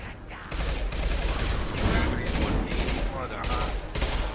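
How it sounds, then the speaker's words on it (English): Sustained rapid fire from a small hand-held SMG pistol in Mass Effect 2, loud and close, a dense rattling stream of shots after a brief quiet start, with a voice briefly heard underneath. "This little hand SMG pistol is terrible"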